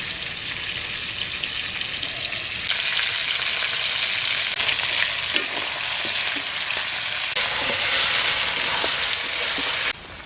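Chicken curry with ground spice paste sizzles and frying steadily in a village kitchen, a dense continuous crackle with occasional stirring scrapes that grows louder partway through, with no talking.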